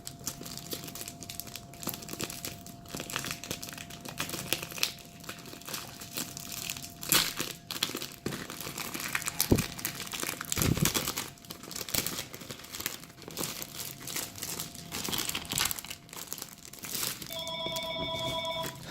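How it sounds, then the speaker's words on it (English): Plastic packaging around a Japanese limited edition Nintendo Switch game of BlazBlue Cross Tag Battle being torn and crinkled up close in steady crackling bursts, with a phone ringing near the end. "I think I'm just gonna break the plastic"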